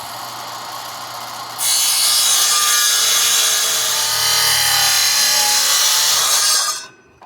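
A power saw runs up to full speed, then bites steadily into a scrap wood board for about five seconds, a loud continuous whining cut that ends as the blade comes free, with no voices.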